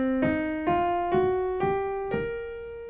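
A minor pentatonic scale with an added flat fifth, played as five ascending pitched notes at a steady pace, each with a crisp attack and a ringing, harmonic-rich decay, heard alone.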